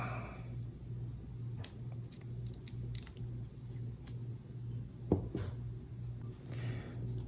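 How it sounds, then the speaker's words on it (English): A knife cuts a small piece of electrical tape during battery pigtail wiring, a brief close snip under a steady low background hum. "Take your knife. Cut yourself a little piece of tape."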